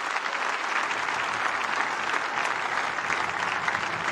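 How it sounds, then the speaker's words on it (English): A church congregation clapping together during a service, a dense, continuous burst of many hands applauding at close range, loud and unbroken with no speech. "Shall we put our hands together and clap for the ever Lord?"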